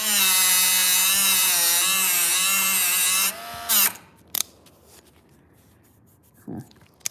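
A powered sharpener grinds a rusty, deeply pitted blade with a loud, steady motor whine for about three seconds, then cuts off, leaving a few faint clicks and handling noises.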